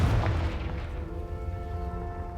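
A Confringo blasting spell in Hogwarts Legacy on PS5 sets off a loud, low boom right at the start, and a tonal ringing tail hangs on for about two seconds as it fades.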